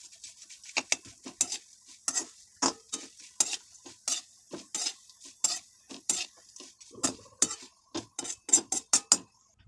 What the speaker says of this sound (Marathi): मी खोबऱ्याच्या चकत्या करून घेतलेल्या आहे छोट्या छोट्या अशा, आणि मग ते तेलामध्ये व्यवस्थित परतून घ्यायचे आहे